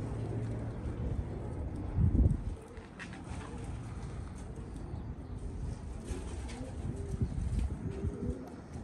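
Pigeons cooing in low, soft murmurs that continue throughout, with a louder bump around the middle and faint outdoor background.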